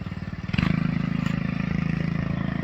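A kids' Chinese 125 ATV converted to a Predator 212 engine runs at about half throttle, its steady mid-pitched chugging rising slightly near the start and then holding an even, close, continuous drone.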